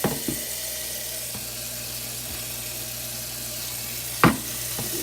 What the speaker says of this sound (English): So I'm going to add a little bit of water because I do want them to be tender.